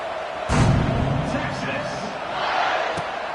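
Stadium crowd noise in a simulated football video game, a broad steady roar that swells after a thud and then eases back, with a commentator talking over it.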